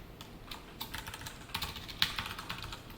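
Code typed on a computer keyboard during a Java lesson on constructors, keystrokes tapping in quick uneven bursts with a few sharper clacks, close and fairly quiet, no voices.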